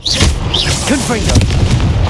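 Blasting spell explosions in Hogwarts Legacy, loud rumbling booms rolling continuously under shouted voices and whooshing game effects in a short, intense burst of combat.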